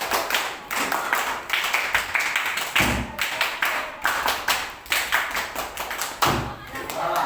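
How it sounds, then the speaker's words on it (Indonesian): A classroom of children performs the scout clap pattern, a rhythmic series of sharp hand claps and thumps repeated in groups over several seconds, fairly close and loud. "Tepuk pramuka."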